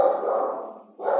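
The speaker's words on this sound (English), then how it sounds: "sorry, that's my dog." A pet dog barks indoors near the microphone: a loud, drawn-out bark cut by a brief pause before a second bark begins.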